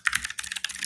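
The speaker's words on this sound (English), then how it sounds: "And I'm typing now" Computer keyboard typing, a close, rapid run of crisp key clicks filling the whole second with no pauses and no voices.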